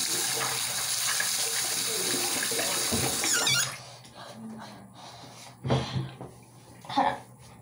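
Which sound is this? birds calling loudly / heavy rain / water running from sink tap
water running from sink tap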